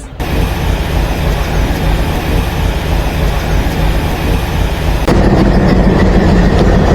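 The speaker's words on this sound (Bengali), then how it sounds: "নির্ধারিত সময়েই যশোর রেলওয়ে জংশনের এক নম্বর প্ল্যাটফর্মে প্রবেশ করছে আন্তনগর কপোতাক্ষ এক্সপ্রেস" Kapotakkho Express, an intercity train hauled by an Indian-built 3300 horsepower locomotive, rolls into platform one at Jessore junction with a loud, continuous rumble of wheels and engine that swells and sharpens near the end.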